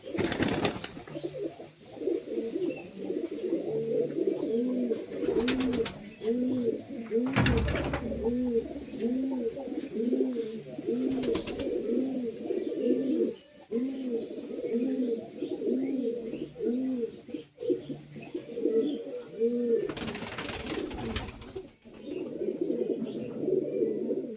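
High flying pigeons cooing steadily and close, a continuous throaty rolling coo repeated over and over, with occasional handling noises and brief talk from people nearby.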